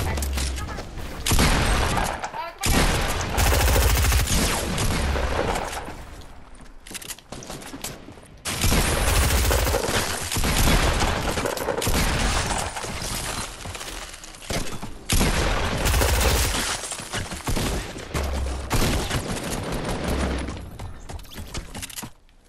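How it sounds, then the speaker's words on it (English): Rapid bursts of gunfire fill a shooting video game, loud dense volleys in several long stretches separated by brief pauses, with a voice talking over the action. "Who was shooting at me?"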